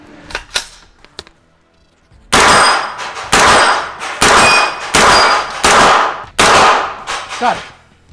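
A few light clicks and clinks, then six loud gunshots in quick succession, each with a long echoing tail.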